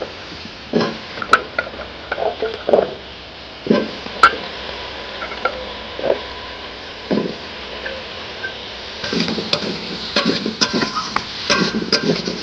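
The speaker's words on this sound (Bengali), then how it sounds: "এবারে আমি আলুগুলো দিয়ে দিচ্ছি" Potatoes tipped into a cooking pot, heard as irregular clattering knocks and thuds with light scraping and a faint sizzle, close by, with pauses between bursts.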